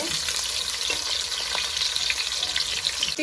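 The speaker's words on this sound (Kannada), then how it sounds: "ಎಣ್ಣೆ ಬಿಸಿ ಆಗಿದೆ. ಆನಿಯನ್ ಸೇರಿಸ್ಕೊಂಡಿದ್ದೀವಿ. ಕರಿಬೇವು ಸೇರಿಸ್ಕೊಳ್ಳಿ. ಫ್ರೈ ಮಾಡಿ." Onion and curry leaves frying in hot oil in a pan for a chicken gravy, a steady dense sizzle with faint crackles and occasional stirring scrapes, close and continuous with no voices.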